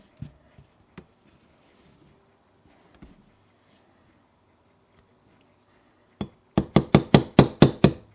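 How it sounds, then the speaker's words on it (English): A hammer on a punch driving a pin out of an AMT .380 pistol: a few faint scattered taps, then a quick close run of about seven sharp metallic knocks. "Next, we're going to punch out this pin right here"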